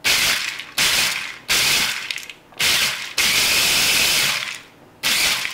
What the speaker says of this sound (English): we're gonna chop and grind. Ooh, gosh, this is gonna be loud